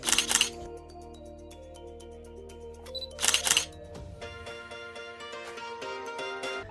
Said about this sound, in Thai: ชัตเตอร์